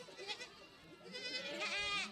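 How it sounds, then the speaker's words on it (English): Goats bleat twice, the second cry longer and more tremulous, heard nearby over soft outdoor background noise. "This animal is called a goat."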